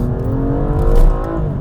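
A BMW M235i pulls hard under acceleration, its engine note rising steadily and loud, heard close from inside the car with no talking.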